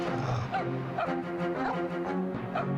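Lupus, the dog character in the Jet Force Gemini video game, gives a series of short rhythmic barks and yips, repeating about every half second over game music, fairly loud and close.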